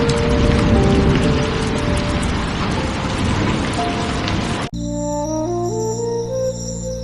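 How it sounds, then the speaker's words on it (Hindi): Heavy rain falls with a dense, loud, steady hiss for several seconds, then cuts off abruptly into a tonal musical passage from a cartoon soundtrack. "तभी आसमान से तेज बारिश शुरू होती है"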